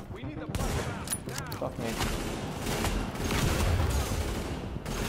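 Dense, continuous gunfire in the video game Tom Clancy's The Division, a loud rattling barrage of shots throughout, with a player's voice speaking over the opening.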